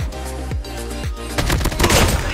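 AK-47 gunfire in the mobile shooter Call of Duty Mobile: a few loud, spaced single shots followed by a rapid burst of automatic fire, close and punchy.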